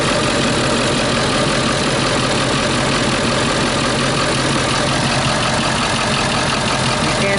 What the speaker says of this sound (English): You hear a diesel idling like that, there's definitely something wrong.